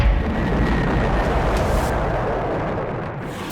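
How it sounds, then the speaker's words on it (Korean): A loud, deep explosive roar that rumbles on for several seconds, thick and booming, slowly settling without fading out. "강력한 폭발음과 엄청난 진동"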